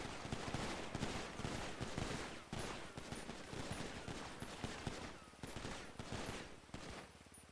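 Rapid gunfire volleys fill a NoPixel GTA roleplay shooting scene, dense overlapping shots crackling continuously for several seconds and heard alone, at a moderate level.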